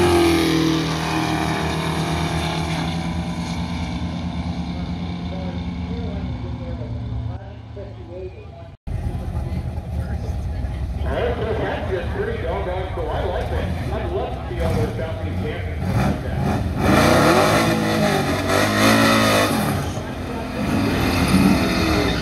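Drag racing cars at Beaver Springs drag-way, including a white Ford Mustang in the far lane, roaring as they launch and accelerate at a Ford FE race event; loud engine noise with crowd and voices mixed in.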